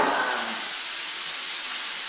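Skirt steak sizzles on a big griddle: a steady, loud hiss of frying meat runs without a break from start to end, with no voices over it.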